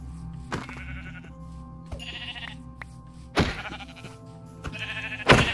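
Sheep bleating in the Minecraft video game, several separate nasal bleats spaced a second or so apart, the last ones louder, with no talking.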